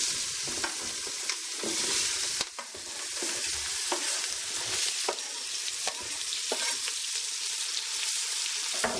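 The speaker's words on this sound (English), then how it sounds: "we're going to want to cook these onions until they're perfect" Onions fry in about four tablespoons of browned butter on a stovetop, a loud, close, continuous sizzle broken by repeated scraping strokes of a utensil stirring the pan.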